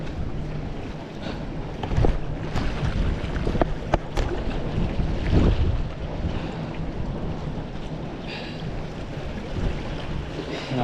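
Strong wind at sea buffets a fishing boat, a loud continuous rushing roar with occasional thumps and gusts, water and hull noise mixed in, close and unbroken throughout.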